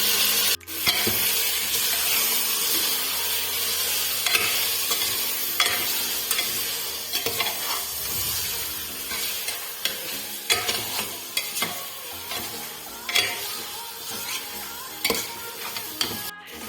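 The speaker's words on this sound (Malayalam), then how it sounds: "ഈ ചിക്കനകത്ത് ഈ മസാല ഈ ഉള്ളിയും എല്ലാം ഒന്ന് പിടിക്കുന്നതുവരെ ഇളക്കി കൊടുക്കാം" Chicken with masala and onion is stirred in a pressure cooker for biryani: a sizzling base under repeated metallic scrapes and knocks of a spoon against the pot, growing sparser toward the end, with no talking.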